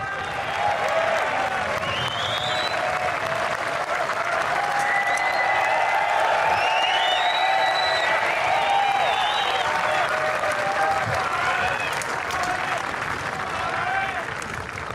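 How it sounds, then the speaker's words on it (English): A large golf crowd at the Royal Portrush practice range during The Open applauds and cheers Rory: loud, sustained clapping with whoops and shouts that holds for the whole stretch, with voices talking through it. "just wait for the crowd to go mad"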